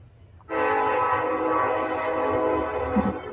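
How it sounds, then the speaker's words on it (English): A train horn sounds one long, loud, sustained blast, heard outdoors at some distance, with low rumbling noise underneath and no voices. "it's kind of cool hearing a train"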